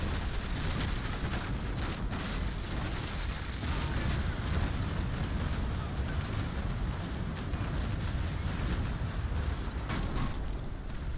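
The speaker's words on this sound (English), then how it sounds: "We've got a bit of incoming fire." Cannon fire strikes sailing warships in the Naval Action game, heard as a dense, continuous rumbling roar of overlapping booms and crackle, steady and loud throughout with no clear gaps.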